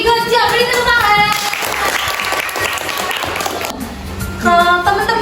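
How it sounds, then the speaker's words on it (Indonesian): Students in a classroom break into loud, dense applause for their classmates, with a voice speaking briefly before and after the clapping. "Beri tepuk tangan."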